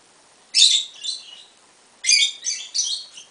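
A Lutino lovebird (Agapornis) gives bright, high chirps while getting head scratches indoors, two clusters of quick squeaky notes close to the listener, with near silence between them.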